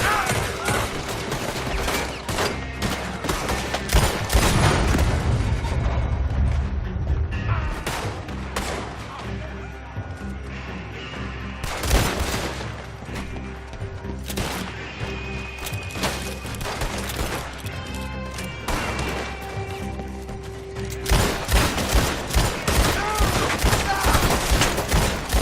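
Rapid gunfire and crashing shots in a Red Dead Redemption 2 shootout, loud dense volleys and single cracks repeating throughout against a busy game soundscape.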